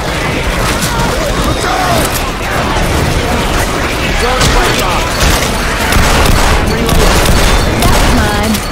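Video game gunfire rattles in dense, continuous volleys with booms mixed in. The clip is loud throughout, with voices talking over the shooting.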